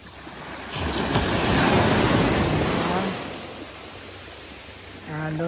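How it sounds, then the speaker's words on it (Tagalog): Ocean surf at French Beach near Victoria rolls in loud and close, a broad rushing wash that swells, sustains and recedes, with wind buffeting the microphone. "Ang laki ng alon."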